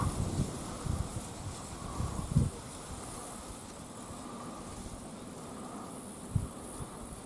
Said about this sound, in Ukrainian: Вітер, звісно, тут сильний.